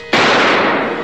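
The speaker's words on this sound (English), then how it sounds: "A gunshot." A single loud gunshot goes off at close range during a tense raid on a car customizing shop, a sharp crack followed by a brief noisy decay.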